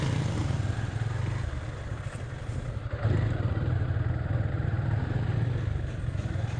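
A motorcycle rolls slowly over a broken, waterlogged rural road after rain near Sylhet, Bangladesh, its engine giving a steady low drone with a brief dip midway.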